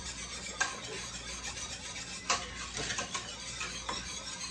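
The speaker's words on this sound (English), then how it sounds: "But you're going to whisk this around real good." Peach and apple jelly mixture whisked in a pot over high heat, a steady soft scraping and swishing with occasional sharper clinks of the whisk against the metal, moderately close, no talking.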